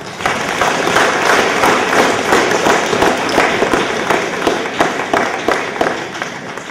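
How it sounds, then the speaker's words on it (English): Sustained round of applause from an audience honoring top students in grades 7 to 12, dense steady clapping close and loud throughout with no talking. "Another big round of applause."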